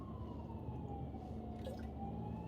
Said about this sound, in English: All right, so we've got an ambulance coming.